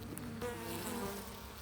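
Dense, steady buzzing of many honey bees in an open hive close by, a continuous droning hum with no voices.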